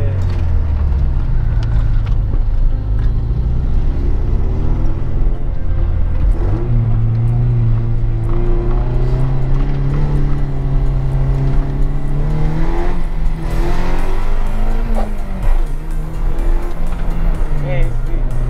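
A Toyota MR2 sports car fitted with a hard top drives along, its engine note rising and falling through revs in a steady close drone, with occupants talking over it the whole time.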